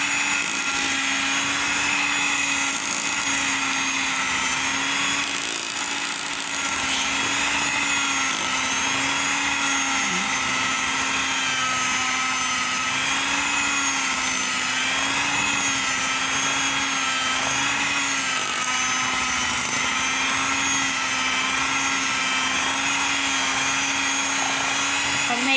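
Electric blender whirring steadily as it blends mango cheesecake filling, a continuous loud motor drone with a wavering hum running unbroken throughout.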